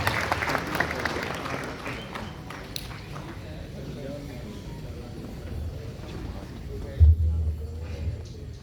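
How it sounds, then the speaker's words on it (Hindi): Steady applause from a crowd fills the space, fairly even and sustained, with a brief louder bump near the end. "एक दफ़ा भरपूर तालियों में हम इस्तकबाल करेंगे"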